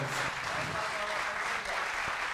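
Sustained, dense applause fills the hall at a university comic poetry gathering, a loud continuous wash of many hands clapping with a faint voice briefly audible beneath it.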